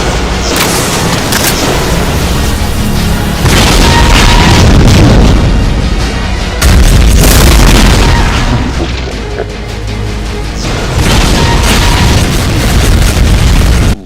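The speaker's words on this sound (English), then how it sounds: "Demon Tech Devastator shots." Demon Tech Devastator weapon in a Doom mod fires rapidly, producing loud, dense, overlapping explosive booms that roar continuously for about fourteen seconds with brief dips between volleys.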